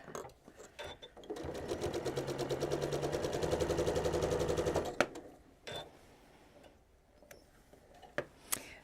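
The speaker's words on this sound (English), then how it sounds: "And then sew onto my ender." A sewing machine stitches a quilt seam and runs on onto an ender scrap. It chatters in a fast, close burst for about four seconds, then stops, leaving a few sharp clicks and handling knocks.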